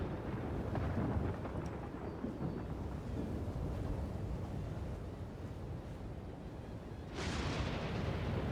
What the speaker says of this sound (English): Loud thunder and lightning.